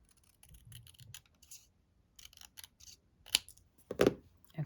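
Scissors cut card paper with a string of crisp, close snips in irregular bursts, separated by quiet pauses, with the last few cuts louder.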